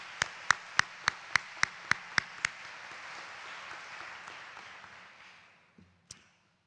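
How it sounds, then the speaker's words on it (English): Audience applause at a fall commencement ceremony: a run of sharp, evenly spaced loud claps, then a dense wash of crowd clapping that swells and fades away, with one last stray clap near the end. "So let's give them another round of applause."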